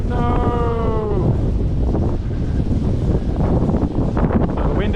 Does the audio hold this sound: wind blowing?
yes